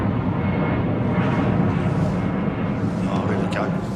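An Aer Lingus airliner at London Heathrow produces a loud, continuous engine rumble and roar, heavy in the low end, steady throughout the short stretch with slight swells.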